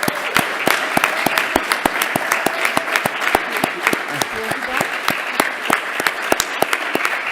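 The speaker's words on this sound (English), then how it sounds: "So please, I ask for a big applause to these people." An audience claps for the local organizers at a closing event, a dense, sustained round of applause from a crowd, fairly close and even throughout.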